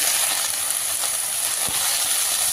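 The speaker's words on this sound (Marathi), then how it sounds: "कमी गॅसवर व्यवस्थित आपल्याला ही भाजी परतून घ्यायची आहे" Leafy greens sauté in a hot kadhai over a low gas flame, giving a steady close sizzle and hiss with faint stirring scrapes.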